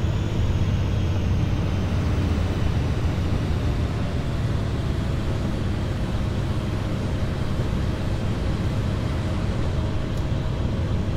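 Steady low rumble of a simulated BR 612 train rolling over railway switches in Train Sim World, a continuous heavy drone with faint rhythmic clatter, no voices.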